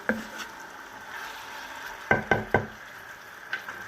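Meat frying in oil with tomatoes for a cauliflower tajine, a low steady sizzle underneath a few sharp utensil knocks and scrapes against the pot, clustered near the middle and once more toward the end.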